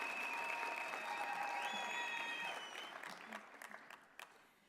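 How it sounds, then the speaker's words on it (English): Applause from a university graduation ceremony audience after a choir performance, a dense sustained wash of clapping that gradually thins and fades toward the end. "Can we give them another round of applause?"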